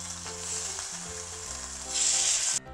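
Beef sizzling in a hot pan for a beef and broccoli stir fry, a steady loud hiss of frying that swells near the end, with a faint low hum underneath.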